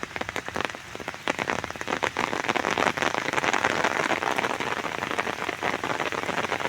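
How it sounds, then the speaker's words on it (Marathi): Rain pours onto the water of a tidal creek near the Bhatgaon Rai bridge, a dense, even hiss of countless drops that swells and stays loud throughout, with no voices. "पाऊस आला."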